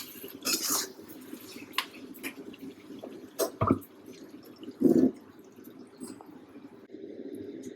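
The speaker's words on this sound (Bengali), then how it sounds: "আমি মাংস প্রেসার কুকারে দিয়ে দিলাম।" Cooked mutton from a doi mangsho curry is scraped from a pan into a pressure cooker: scattered metallic clinks and scrapes of utensil on pot, with a couple of louder knocks and soft wet squelches, close and fairly quiet.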